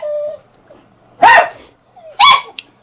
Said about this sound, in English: And what the dogs sound like.